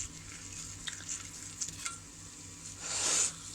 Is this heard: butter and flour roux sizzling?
yes